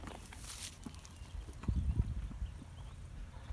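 Horse hooves clip-clop at a steady walking rhythm while the horse is ridden through a dandelion-filled field in mountain vineyard country, close and moderately loud, growing heavier midway, with no talking.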